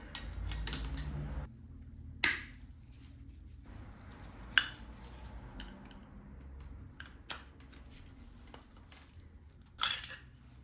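Brake retainer bolts and two brake pads drop out of the caliper of a Ducati Monster S2R 1000, producing a few sharp metallic clinks and clatters separated by quieter handling noises, close and fairly soft, with no talk.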